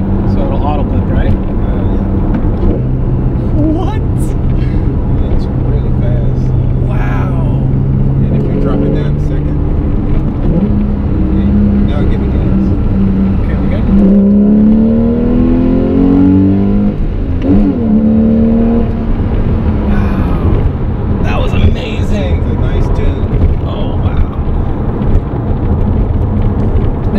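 A 2015 Porsche 911 Carrera 4 flat-six engine drones loudly from inside the cabin while driving, with revs rising and dropping through a downshift to third, under steady conversation between occupants.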